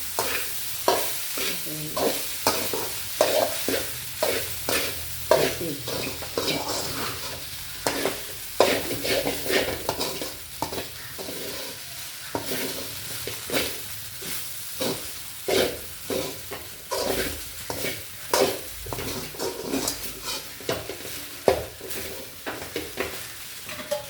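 Upma with sautéed onions is stirred in a hot pan: rhythmic, repeated scraping strokes of a spoon over a continuous soft sizzle, close and steady throughout.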